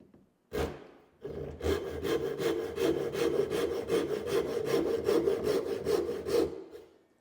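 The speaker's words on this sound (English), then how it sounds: "So you can see how fast that cut with the rip teeth." A Gikoh ryoba Japanese pull saw rip-cutting wood with its rip teeth, one sharp knock then a steady run of about sixteen fast, even rasping strokes, close and loud with no talking.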